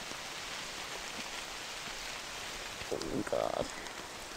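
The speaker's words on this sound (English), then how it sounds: "It's raining." Steady rain falls over a mountain village in Portugal, a dense even hiss filling the whole stretch, with a brief startled voice near the end.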